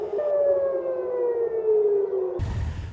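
A long, wailing air raid siren tone sweeps steadily and loudly, then cuts off abruptly into a burst of broadband noise.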